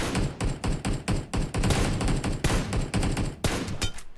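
Rapid gunfire in a video game shootout, a dense string of sharp shots fired in quick bursts with short gaps, loud and close, nearly four seconds of steady firing.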